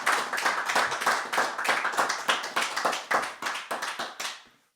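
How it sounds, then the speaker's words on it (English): A small audience claps for a performer after a live music show set, with sharp, distinct hand claps in a quick uneven rhythm that close up and taper off at the end. "Let's give him another round of applause."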